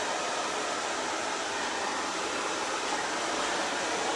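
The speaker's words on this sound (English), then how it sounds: "I'm not going to do a ton of blow drying with it, just a little bit to smooth it." A hair dryer blows steadily close to the microphone while hair is smoothed with a boar bristle brush, a constant loud airy whoosh with no breaks.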